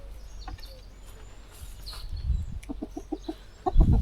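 Hens clucking while being fed greens and pumpkin from a bowl, with short repeated clucks close by, growing busier toward the end, and someone talking now and then.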